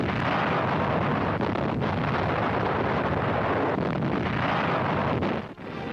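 Naval guns firing broadside at an enemy-held shore during the invasion of Attu Island produce a dense, continuous roar of blasts that stays loud throughout, with no speech.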